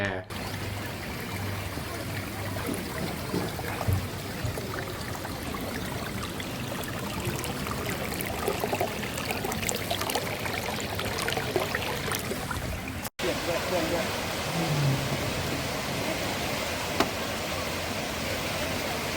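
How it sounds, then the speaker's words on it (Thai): A waterfall recorded on a Samsung Galaxy S21 FE phone gives a continuous broad rush of falling water, with a brief cut partway through, and a voice heard at times over it. "ผมไปถ่ายน้ำตกมา สวยมาก"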